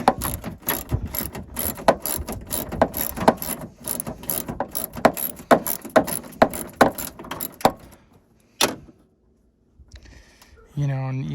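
A hand wrench ratchets headlight housing bolts loose on a car, a fast run of close clicking strokes in uneven bursts that stops, followed by a short pause and someone speaking.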